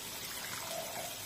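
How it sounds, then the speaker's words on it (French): Water poured into an emptied tomato can to rinse it while cooking Cameroonian okra sauce, a soft, brief trickle and splash, faint and close, with no talking. "Je vais mettre l'eau ici pour rincer la boîte."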